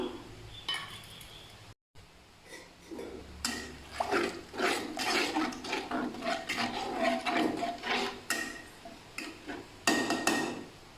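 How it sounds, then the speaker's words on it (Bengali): Water poured into a pan of beef and potato curry, splashing and sizzling with clinks of a utensil against the pan, fairly close and steady, with no talking. "সামান্য পানি দিয়ে দিচ্ছি কষানোর জন্য"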